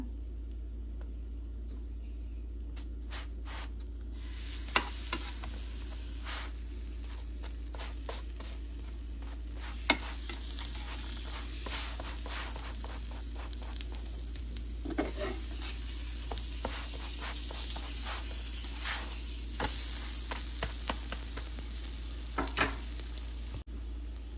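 Squash paratha fries on a pan in oil and butter with a steady soft sizzle over a low hum, broken by occasional small clicks and scrapes.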